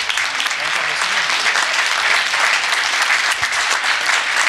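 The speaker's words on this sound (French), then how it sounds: "je voudrais vraiment que vous les applaudissiez chaleureusement" Warm applause from the audience at a business awards ceremony, steady dense clapping that holds throughout without pause, with faint voices underneath.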